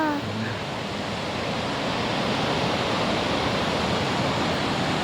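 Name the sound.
Kajulu waterfall rushing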